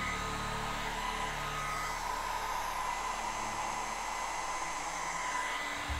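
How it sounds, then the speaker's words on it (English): A blow dryer heating alcohol ink on Nara or Yupo painting paper gives a steady, close whooshing roar that holds for several seconds and cuts off near the end, with no talk. "I just used the blow dryer one time, but it's okay."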